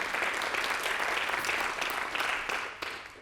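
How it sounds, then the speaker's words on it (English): Brief burst of audience applause for interpreters at an education conference, steady full clapping that tapers off near the end. "An applause for them."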